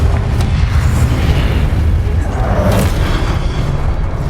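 Confringo spell explosion in Hogwarts Legacy, a loud sustained booming blast with rumbling low end lasting several seconds.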